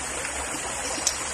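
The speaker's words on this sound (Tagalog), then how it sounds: "malakas na agos ng tubig" A river runs with a strong current, a steady broadband rush of water that holds at a constant level and stays close, with no voices over it.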